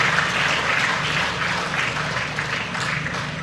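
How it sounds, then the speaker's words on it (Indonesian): A large crowd at a mass housing loan signing event gives steady, dense applause that holds at an even, fairly loud level throughout, with no talking over it. "Tepuk tangan buat para pengembang ini."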